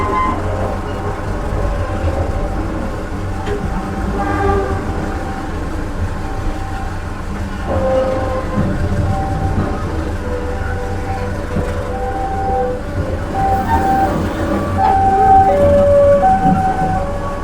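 The Sancaka Utara train pulls out of Solo Balapan station at night, with a steady low rumble of wheels and engine running throughout and tonal horn or whistle notes rising near the end.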